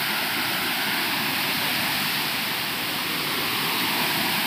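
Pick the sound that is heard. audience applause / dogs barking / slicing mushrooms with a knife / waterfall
waterfall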